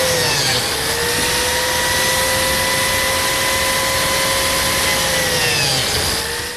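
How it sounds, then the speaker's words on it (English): A biscuit joiner cutting slots in wood for a chop saw station shelf, a loud continuous motor whine with a faint pitch sag as the blade bites, then spinning down near the end. "Now let's cut some biscuit slots."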